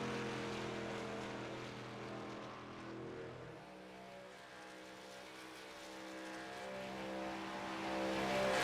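Race cars run practice laps at Talladega superspeedway during a Super Speedway Series pre-season session, their engines making a steady, loud droning roar that shifts pitch slightly partway through, with no voices.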